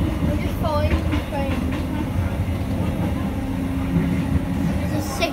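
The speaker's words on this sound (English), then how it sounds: "Now I'm on the train right now." Steady rail noise from inside a moving passenger train near Edge Hill, with continuous rumble, faint squeals and light rhythmic clatter from the rails, heard close and constant, with a voice briefly in the background.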